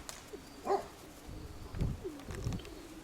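A male Crimean pigeon coos while chasing the female, with soft low throaty coo phrases repeated a few times. It is fairly close but quiet, over faint background noise.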